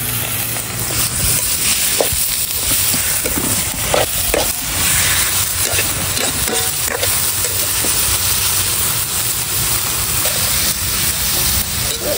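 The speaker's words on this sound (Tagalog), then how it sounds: "Ilalagay na po ni Bali yun pong mga giniling. Sasama na po diyan sa bawang at sibuyas." Ground meat sautéing with garlic and onion in a pan, a loud continuous sizzle up close, broken by scraping and stirring strokes throughout, with no talk.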